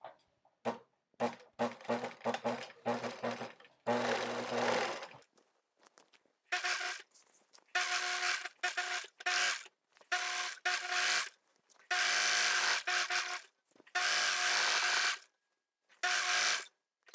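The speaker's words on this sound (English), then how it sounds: "we're gonna sew all the way around the, you know, along the hem, and I'm gonna zigzag it" A sewing machine zigzag-stitches along the hem of a wrap skirt in loud, close bursts. The rapid mechanical whirring starts and stops repeatedly, with short silent gaps between runs.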